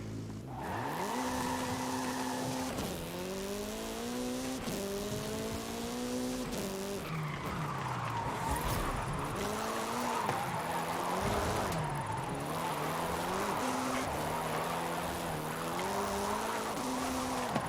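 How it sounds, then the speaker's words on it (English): An Acura Integra drift car revs and slides with loud, sustained engine tones rising and falling through gear changes, joined by continuous tire squeal and skidding close by, with no talking. "I am going to do a little bit of driving before the build"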